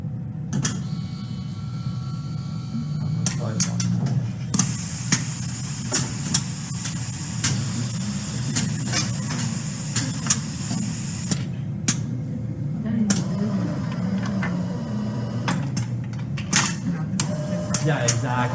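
Pneumatic robotic system driven by an air compressor, with repeated sharp air hisses and bursts alongside mechanical clicks and creaks, heard up close in a workshop while people talk.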